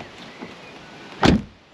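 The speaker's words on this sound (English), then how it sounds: "you open the door of the Polo and shut it" A Volkswagen Polo GTI car door slammed once, a single solid thud near the end, preceded by faint handling clicks against quiet surroundings.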